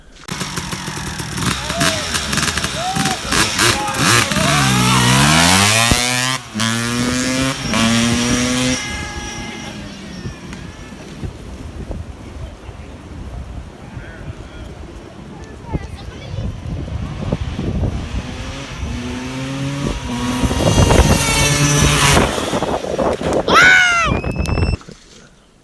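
A Traxxas Revo 3.3 nitro RC car engine screams and buzzes, its pitch sweeping up and down through repeated revs and passes with wind noise, then cuts out near the end; voices talk in between.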